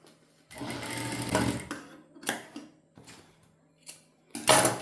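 A sewing machine stitches piping onto a uniform jacket in several short bursts of close, rapid mechanical whirring, separated by quiet pauses, with a final loud burst at the end.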